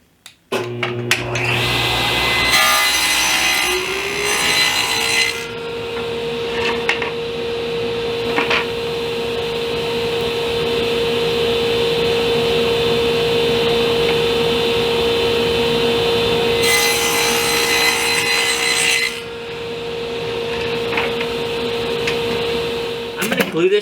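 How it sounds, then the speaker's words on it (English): A table saw runs at a steady whine while cutting wood pieces for a storage bench, with brief rasping bursts as each piece passes through the blade, loud and close, and some clatter around it. "I'll sneak the fence over and make another cut"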